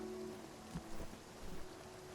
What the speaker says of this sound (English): It's already raining.